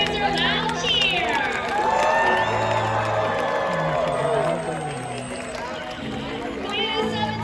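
Crowd at the SeaWorld San Diego orca show cheering for Kalia the killer whale: a broad, sustained roar of voices with whoops and children's shouts, mixed with an announcer's voice and music over the arena.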